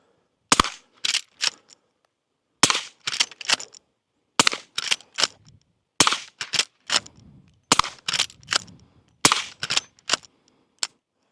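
Six sharp gunshot cracks from a suppressed Derya RAN lever-action rifle firing .38 and .357 rounds, spaced about every one and a half seconds, each followed by quieter clacks of the lever being cycled.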